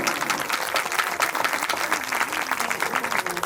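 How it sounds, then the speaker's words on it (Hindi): Audience clapping at a Bhagwat Katha religious discourse, with dense applause running steadily throughout over a background of music with a sustained tone, fairly loud. "ताली बजा दो"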